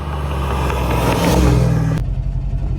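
A Dodge Hellcat fitted with catless mid pipes revs hard and close, its raspy engine roar climbing for about two seconds before dropping abruptly to a rumbling idle.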